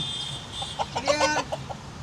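Chickens cluck in a short, soft run of calls near the middle, with quiet farmyard background and no talking.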